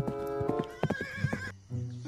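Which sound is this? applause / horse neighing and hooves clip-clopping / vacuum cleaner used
horse neighing and hooves clip-clopping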